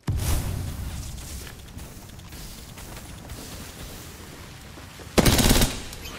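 Video game gunfire: an opening loud burst, then a stretch of lighter scattered shots and background noise, and a sharp loud automatic burst near the end, with no talking.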